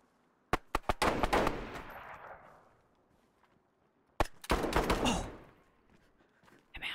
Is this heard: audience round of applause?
no